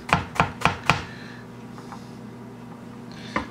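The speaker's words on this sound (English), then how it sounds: "So now I'm just gonna hit our garlic. Just like to crush that a little bit and then mince it up." Crushed garlic cloves on a cutting board: four sharp, evenly spaced knife chops, followed by a low steady background hum and one last isolated chop near the end, with no talking.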